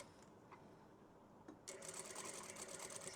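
A sewing machine stitching fabric strip curtain pieces starts up after a quiet moment and runs at a steady, rapid whirring pace, close and clear with no talk.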